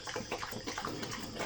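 A pig recovering from African swine fever slurps watery feed broth, producing continuous wet sucking and lapping sounds up close, fairly quiet, with no talking.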